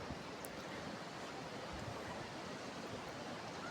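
Steady rushing flow of the Modi Khola river, a continuous broadband wash of water over rocks, close and even throughout with no voices.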